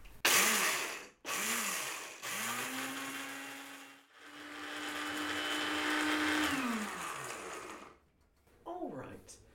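Food processor pulsing a parmesan mixture in short and long bursts, whirring up loudly, stopping, then running again for several seconds before cutting off, close by, with a brief muffled voice near the end.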